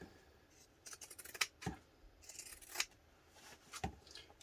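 Scissors snip through fabric close to the stitches of a small drawstring dice bag, making a few crisp, close cutting crunches separated by short quiet gaps.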